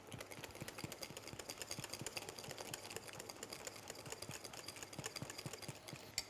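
Unsalted butter is whisked into chestnut cream in a bowl, producing a quiet, rapid, rhythmic ticking of the whisk against the bowl, steady and continuous throughout.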